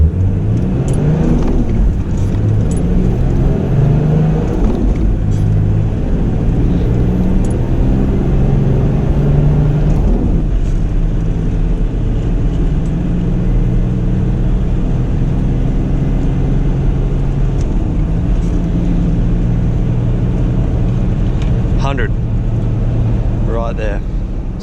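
A 3.5-ton turbocharged Toyota Land Cruiser pulls away hard from a standstill, its engine roaring loudly and rising through gear changes, close and sustained, with some wind and cabin rumble.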